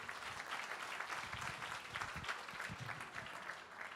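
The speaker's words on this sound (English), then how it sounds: "would you give all of the artists a huge round of applause?" Audience at a benefit auction applauds donating artists, a dense sustained clapping that holds steady and fairly loud throughout.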